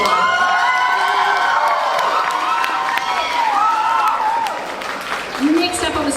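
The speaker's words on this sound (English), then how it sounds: "Massive, massive round of applause" Audience at a cosplay competition on stage clapping and cheering with scattered whoops, a busy crowd roar that fades slightly near the end while an announcer talks over it.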